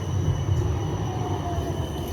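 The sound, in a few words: tram arriving at stop in Porto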